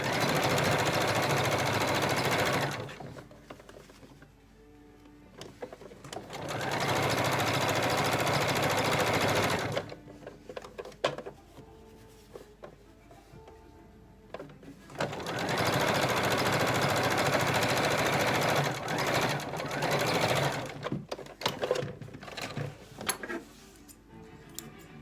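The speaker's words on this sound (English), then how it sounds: "I'm only going to sew along the top edge of the mask at this point." A sewing machine stitches along the top edge of a fabric mask in three bursts of steady, fast whirring, separated by quiet pauses with small handling clicks.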